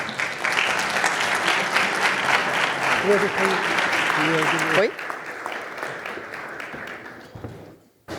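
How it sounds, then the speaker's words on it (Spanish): A business forum audience gives loud, dense applause for about five seconds, then it fades as a voice starts speaking. "Lo recibimos con un fuerte aplauso."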